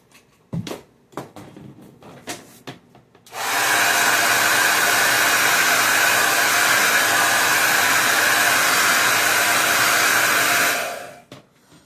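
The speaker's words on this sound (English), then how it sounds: "I'm gonna dry that real quick. Just 5 seconds." After a few soft clicks and handling noises, a hair dryer is switched on to dry freshly applied makeup. It blows in a loud, steady roar for about seven seconds and then cuts off.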